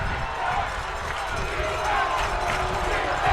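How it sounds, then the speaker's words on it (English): A sellout college football crowd at the Glass Bowl roars continuously, the dense noise of many voices rising toward the end, likely rhythmic defense chanting, though no clear beat shows. "Loud defense chants coming from this sellout crowd at the Doit"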